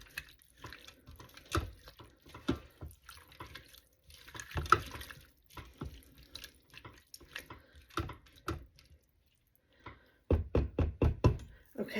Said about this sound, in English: So I'm just going to stir this up just a little bit more.